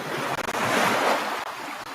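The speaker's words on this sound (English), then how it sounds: "If you need ocean waves," Ocean waves roll and wash in a dense, hissing surge with some wind rumble, close and steady for a couple of seconds.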